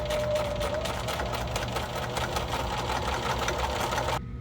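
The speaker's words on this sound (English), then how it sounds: "I'm going to just stretch it a teeny bit as I stitch" A sewing machine runs steadily, stitching new knit fabric onto the hem of a T-shirt to lengthen it, with a close, continuous whirring hum that stops abruptly just before the end.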